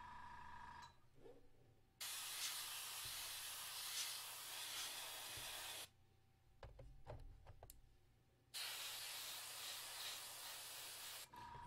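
An airbrush sprays paint onto a Mechanicum Ordinatus Sagittar miniature, building up overspray as two long, steady hissing bursts separated by a quiet pause with faint handling clicks, soft and close.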